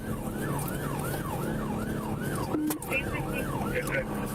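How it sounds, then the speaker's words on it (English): A state trooper's siren wails in rapid repeating rises and falls over road and engine noise during a police chase, with a brief electronic tone partway through. "Trooper activated emergency lights and sirens, but the vehicle fled"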